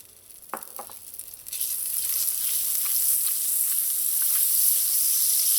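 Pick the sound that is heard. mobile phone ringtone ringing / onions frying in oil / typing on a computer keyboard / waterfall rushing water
onions frying in oil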